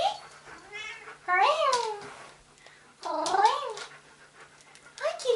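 A cat meowing up close, giving three drawn-out, wavering calls with short gaps between them and one more starting at the end, with no one talking.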